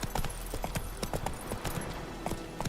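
Roach the horse gallops in The Witcher 3, a quick rhythmic clip-clop of hooves close by, steady and evenly paced throughout.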